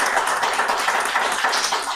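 An audience at a book launch for the poetry collection Nomenclatures of Invisibility breaks into sustained applause, a dense, steady wash of many hands clapping close by with no voices rising above it.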